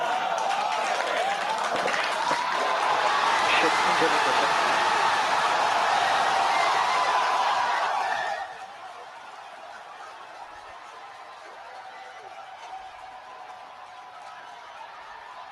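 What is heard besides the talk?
crowd cheering at SpaceX Starship first hot staging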